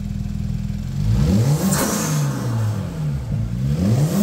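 A Genesis G80 3.3T twin-turbo engine fitted with an intercooler and full piping kit revs up repeatedly from idle, loud and close, each rise and fall of revs clearly audible, with no voices.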